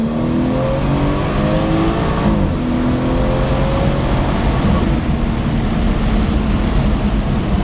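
Modified all-wheel-drive BMW, tuned to around 500 horsepower, accelerating hard with a loud continuous engine roar, its pitch climbing through gears, heard up close from inside the car.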